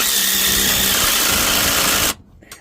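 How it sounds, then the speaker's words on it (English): A mini impact wrench hammers loudly and fast for about two seconds while installing a sway bar bushing, then stops abruptly. A few faint taps follow. "And then you're gonna hear a lot of impact noises."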